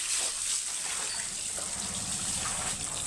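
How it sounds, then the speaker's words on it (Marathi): Tap water steadily filling a container for washing clothes at home, a continuous gushing rush at an even level throughout, with no voices. "पाणी भरून घेतो आपण"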